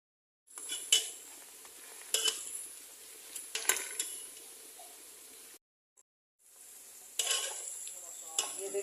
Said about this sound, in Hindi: इस रेसिपी के लिए प्याज को अच्छा सा गोल्डन ब्राउन करना है।